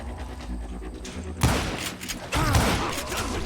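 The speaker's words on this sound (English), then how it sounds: "I just kept shooting at anything I could see up in those damn rocks" Gunfire in the Western shooter Call of Juarez Gunslinger, heard as two sharp, loud blasts about a second apart, each trailing into a rumbling echo over a low background hum.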